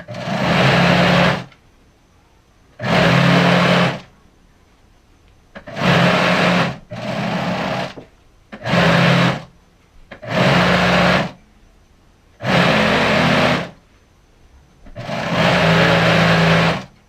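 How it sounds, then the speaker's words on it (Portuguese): A domestic sewing machine stitches a skirt seam in repeated bursts of steady mechanical whirring, each lasting one to two seconds and separated by short quiet pauses, close and loud. "Então, vou fazer minha primeira costura."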